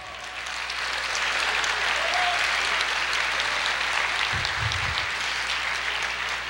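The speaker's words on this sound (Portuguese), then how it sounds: "aplauda o Senhor" A church congregation claps in praise, a steady wash of many hands at moderate level lasting several seconds, with a brief low thump partway through.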